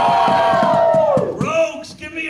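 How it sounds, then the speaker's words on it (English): Crowd at a convention opening ceremony roars a loud cheer with overlapping yells and whoops, fading into scattered voices and claps. "Clerics, give me a cheer."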